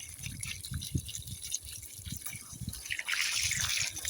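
Water running and overflowing from a small fountain, trickling and dripping steadily with low splashes, swelling into a stronger gush near the end, no talk.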